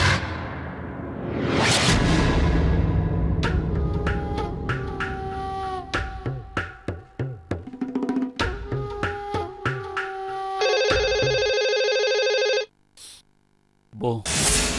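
A telephone rings for about two seconds in a Telugu TV serial scene, a steady electronic tone following dramatic music stings and whooshes, then brief silence.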